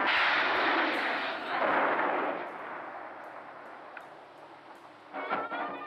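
Celebratory gunfire in Turkey, with handguns, automatic rifles and rocket-propelled grenades fired at a joyous occasion: a dense, loud roar of continuous shots and blasts that gradually thins, with a fresh burst near the end.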